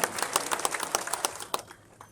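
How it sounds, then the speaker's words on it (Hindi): Applause from an audience at an award ceremony for students, brisk crackling claps that thin out and fade over the last half second. "जोरदार तालियां वैशाली जिला के लिए एक बार"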